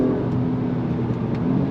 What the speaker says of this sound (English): on throttle, here we go. All the way up to red line